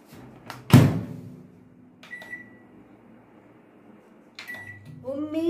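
A microwave oven heating a long bread sandwich gives a door clunk, hums faintly during the run, and ends with a couple of short beeps before a voice starts speaking.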